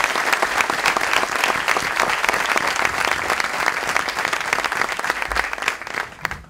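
Graduates and guests at a diploma ceremony for school directors and inspectors give themselves a long, loud round of applause, with individual claps crisp and close, thinning slightly near the end.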